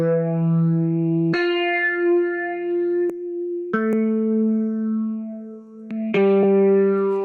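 Electric guitar played through a Mesa Boogie California Tone amp simulator plugin, with saturated, thick chords struck one after another and left ringing, some short picked accents in between, and a slight echo and chorus shimmer.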